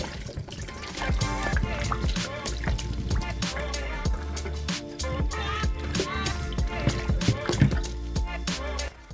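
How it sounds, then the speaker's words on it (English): Close splashing and sloshing as fruit is rinsed in a bowl of water, busy and continuous with frequent drips and small splashes, no talking. "Use a second bowl of fresh water to make sure you thoroughly rinse your fruit"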